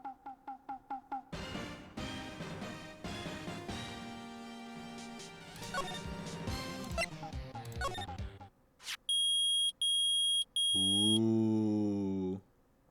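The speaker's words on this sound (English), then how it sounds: "It's beeping! The metal detector's found something!" Metal detector in a Phoenix Wright video game beeping loudly in a few clipped electronic pulses, then a longer sustained tone, following a stretch of upbeat game music.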